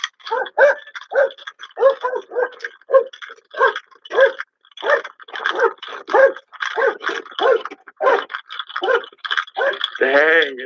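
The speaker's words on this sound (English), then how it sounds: "That's that police dog going off." A police dog barks and whimpers in rapid repeated bursts, loud and close, the yelps and whines coming in an agitated rhythm and ending in a wavering whine.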